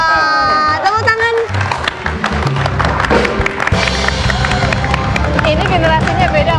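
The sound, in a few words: studio audience applause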